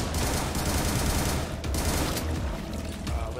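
Rapid continuous gunfire in a video game, dense automatic bursts crackling loudly and almost without pause, with a couple of brief dips in the volley.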